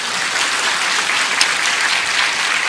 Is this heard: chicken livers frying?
no